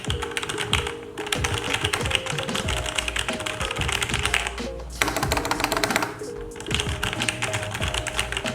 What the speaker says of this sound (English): This mechanical keyboard uses Logitech's Roamer G tactile switches. It's clicky, fast, and a little bit quiet.